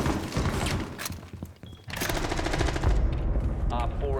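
Rapid video game gunfire is shot through a wall, a loud burst of repeated shots in two runs with a short gap between them and a voice talking over it.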